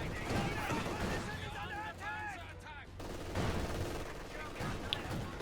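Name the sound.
gunfire from armoured cars in Company of Heroes 2 video game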